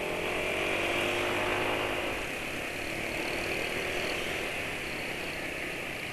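An engine fitted with a KTC piston runs steadily and somewhat roughly, a dense, constant mechanical roar with broad hiss, loud and unbroken throughout.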